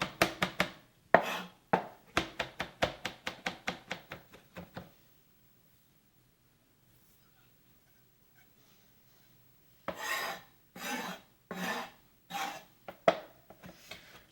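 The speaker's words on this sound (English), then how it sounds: "So give it a good mince." Knife mincing fresh cilantro for guacamole on a cutting board: a quick run of close, sharp chopping taps for about five seconds, a long quiet pause, then a slower burst of heavier chops.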